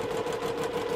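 Sewing machine stitching a quarter-inch seam on a quilt block, a continuous steady mechanical whir with a constant hum, close and unbroken for the whole moment.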